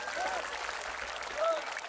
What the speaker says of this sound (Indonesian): Tepuk tangan untuk Mas Agus.